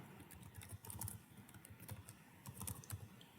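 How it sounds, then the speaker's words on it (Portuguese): Quiet, steady typing on a computer keyboard while writing JavaFX code, with irregular clusters of soft key clicks close by and no talking. "eu vou digitar aqui"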